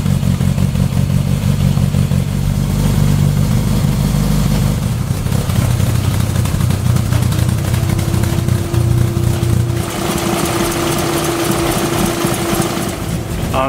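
An MG Midget engine idles without a break during a cooling system flush. It makes a loud, close, steady mechanical drone with constant clatter, and the tone shifts slightly partway through. No one speaks.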